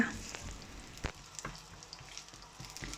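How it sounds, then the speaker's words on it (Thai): Sliced onions fry in a little olive oil in a small pan, a quiet, steady sizzle with occasional clacks of a utensil stirring against the pan. "เสร็จแล้วเราก็จะผัดหอมหัวใหญ่ค่ะ ผัดให้หอมเลยนะคะ"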